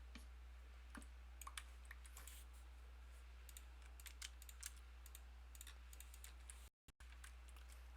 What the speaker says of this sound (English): Hopefully they can read the syntax I'm typing with for coordinates here.